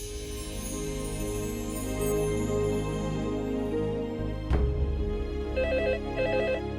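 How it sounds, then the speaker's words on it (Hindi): A telephone bell rings at night in a Hindi TV drama scene: repeated short bursts of trilling ring in a steady rhythm, heard indoors over a soft musical background with a sharp clack partway through. "इतनी रात को किसका फोन हो सकता?"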